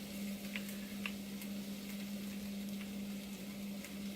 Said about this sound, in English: Hear that pan's hot already?